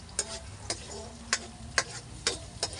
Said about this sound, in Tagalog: pakulay lang po natin yung kanyang bawang